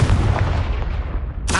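The Confringo fire spell in Hogwarts Legacy detonates as a loud, rumbling blast with a deep boom that fades over a second, and a second sharp burst cuts in at the end.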